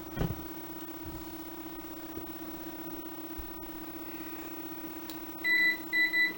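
A low electronic hum runs throughout as a MicroVAX 3100-90 boots, then near the end a VT220 terminal buzzer sounds several short steady beeps in quick succession.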